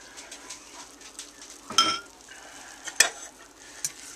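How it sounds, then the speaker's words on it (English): Egg and water are stirred into flour to make a coarse, lumpy tempura batter, heard as soft mixing scrapes with a couple of sharper clinks of utensil against bowl. "So we mix the egg and the water together and combine that into the flour mixture."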